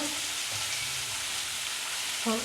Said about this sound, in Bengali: এই কুমড়ো আর আলুটাকে দিয়ে ভালো করে ভেজে নেবো